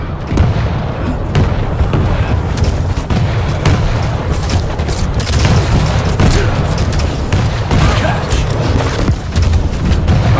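Rocket launcher blasts from the video game Quake Champions rumble on and on, loud and continuous, with heavy booms piling on each other and a voice talking underneath.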